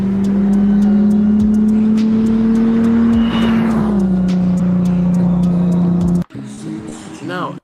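Car with an aftermarket intake sweeping past loudly and close, a strong engine drone rising and then dropping in pitch as it goes by, followed by a short quieter stretch at the end.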